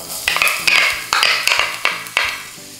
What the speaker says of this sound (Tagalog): igigisa na natin yung bawang at yung sibuyas